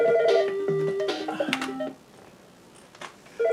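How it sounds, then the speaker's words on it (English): An electronic phone ringtone plays a short melodic sequence of beeping tones, fairly close and clear, pauses, then starts again at the end. "And my phone rings."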